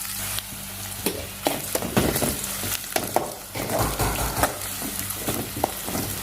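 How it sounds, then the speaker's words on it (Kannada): Onions frying in a pan for chicken sukka, a steady close sizzle with occasional stirring scrapes and clicks from the utensil, no voices. "ಉಳ್ಳಾಗಡ್ಡಿ ಅದು ಫ್ರೈ ಆಗಕೊಂತೈತಿ"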